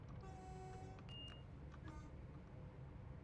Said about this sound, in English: That was me on the buzzer there because I hit the wrong key.